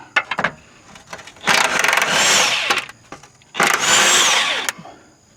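Power tool spinning off the bolts of a car's transmission mount, with two loud sustained whirring bursts, each about a second long, after short clicks and knocks close by. The work is part of a catalytic converter job.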